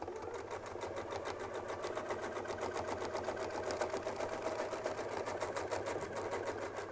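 A sewing machine stitches around a template for a quilted medallion, its needle chattering in a fast, even rhythm that runs continuously at moderate loudness, with no talking.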